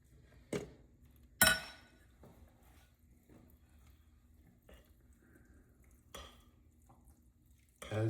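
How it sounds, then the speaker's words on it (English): Chicken salad gets stirred in a bowl with a few scattered clinks and scrapes of a utensil against the dish, close and quiet with long pauses in between. "you stir it."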